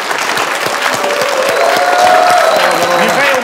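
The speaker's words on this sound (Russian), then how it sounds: "Ваши аплодисменты." A studio audience at a comedy show applauds loudly and steadily, with some crowd noise mixed into the dense clapping.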